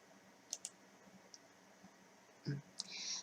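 A computer mouse gives a few sharp clicks, faint and close, spaced irregularly with quiet gaps between them. Soft speech is present.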